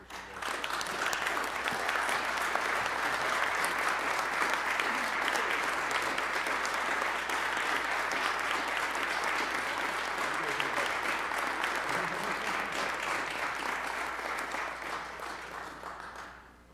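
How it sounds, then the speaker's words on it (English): Sustained applause fills a county board meeting after a motion carries and is adopted, a dense, steady wash of many hands clapping that holds evenly for the whole stretch before tapering off at the end. "Another round of applause for these guys."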